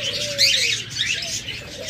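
Lovebirds and cockatiels in a bird shop chatter together, a dense wash of high chirps and squawks with a few brief whistled calls, steady and fairly close throughout.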